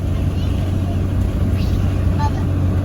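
Heavy truck with a common rail diesel, foot to the floor, hauling about 27,000 pounds of hay on an 8,000 pound trailer: a steady loud low engine drone with deep rumble holding constant throughout.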